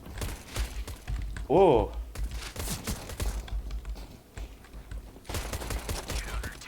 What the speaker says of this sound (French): J'entends des tirs par là-bas.